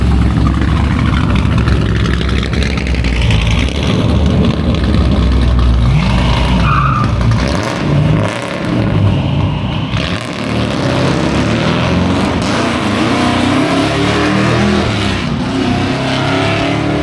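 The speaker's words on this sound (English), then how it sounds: "we got a couple cars leaving us here. We got the Mustang and the truck." A Ford Mustang and a truck pulling away at a Sonic car cruise, heard as continuous loud engine roar and revving with tire noise, sustained throughout and close.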